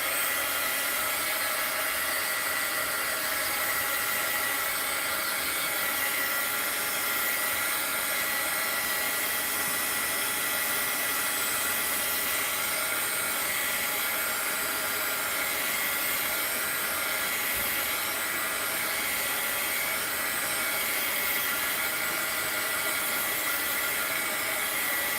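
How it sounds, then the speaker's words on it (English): A heat gun blows steadily over creased paper and fabric, a loud, close, constant whooshing hum that holds without a break throughout, with nobody talking over it. "I'm going to hit this with the heat gun just to dry this where I've creased it"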